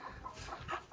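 Hens in a chicken coop with a rooster cluck softly in a short, close burst of several quick notes.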